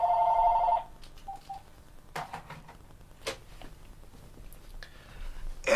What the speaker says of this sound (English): That's like the third different phone in a row here.